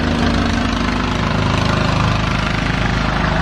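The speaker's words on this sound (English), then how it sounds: "We've got the engine running." Engine running outside a 1925 abandoned house under restoration, a loud steady chugging rumble with a rapid pulsing rhythm that holds throughout, close by, with no talk.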